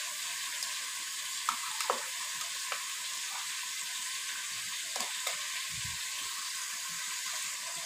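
Mutton frying in a pan after ginger garlic paste is added for a Bengali mutton curry, a steady soft sizzle with occasional stirring scrapes and taps, close and alone without talk.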